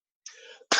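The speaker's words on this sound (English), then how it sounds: "that's weed cough. That's not a corona cough" A single harsh cannabis-smoker's cough bursts out loud and close, preceded by a short breathy throat sound, with nothing else around it.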